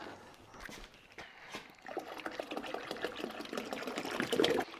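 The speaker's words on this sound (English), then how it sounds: "Now I'm going to add some water." Distilled water from a gallon jug pours into the metal tank of an ultrasonic cleaner, a soft, steady splashing and gurgle that grows fuller over a few seconds after some faint handling noises.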